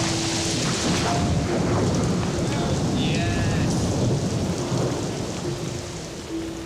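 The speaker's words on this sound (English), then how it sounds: "I want another big lightning bolt." A heavy island thunderstorm pours steady, dense rain while a deep rumble of thunder rolls underneath, loud and continuous, easing slightly toward the end.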